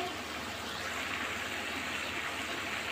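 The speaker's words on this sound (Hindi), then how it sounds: "अब मैं इसमें पानी ऐड करूँगी" Two glasses of hot water pour into browned meat cooking for palak gosht, making a steady, continuous rushing splash that stays close and even throughout.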